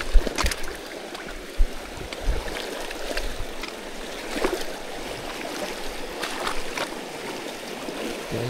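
A fast, shallow jungle river rushing over rocks during rain on a mountain trek, a loud steady churning wash with occasional splashes and no talking.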